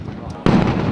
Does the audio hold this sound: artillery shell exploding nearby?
yes